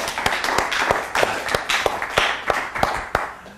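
Audience clapping after a card trick, sharp rhythmic claps roughly three per second from a small group, close and fairly loud with no talking.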